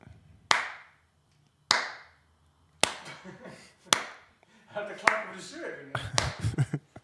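Single sharp hand claps ring out at intervals, two isolated ones then a few more mixed in with nearby conversation and laughter in a podcast-style room.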